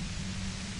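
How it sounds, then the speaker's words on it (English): Loud, dense static hiss fills the space near a door in the video game Disco Elysium. It is steady and overwhelming, with a low hum underneath and no other sounds. "The violent white noise becomes even more overwhelming closer to the door."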